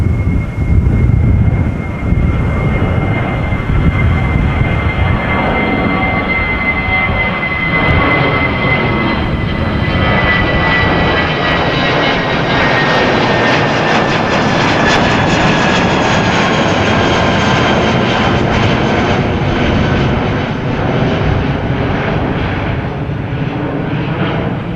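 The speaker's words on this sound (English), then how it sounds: "an Airbus A320 to London Heathrow Speedbird Flight 431 has just taken off" An Airbus A320, about 20 years old, takes off from windy Amsterdam Schiphol Airport: a loud, sustained jet engine roar that swells over about fifteen seconds and then slowly eases, with a steady whine running over broad rumbling noise.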